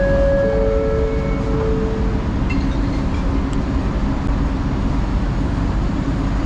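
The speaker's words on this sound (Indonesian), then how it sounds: "Di dalam LRT." Steady loud rumble and rolling drone from inside a moving LRT light-rail train in Kuala Lumpur at night, with brief tonal whines early on and a constant roar throughout.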